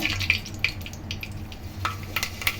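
Fenugreek seeds sizzle in hot oil in a pan while a fish curry is being started, a soft steady frying hiss broken by a few faint pops and light stirring clicks, close and fairly quiet.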